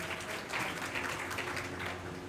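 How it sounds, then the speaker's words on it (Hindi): A crowd at a Bihar police constable felicitation ceremony gives loud, sustained applause, with dense clapping that holds at an even level from start to finish. "सबके लिए एक बार जोरदार तालियों से स्वागत करें।"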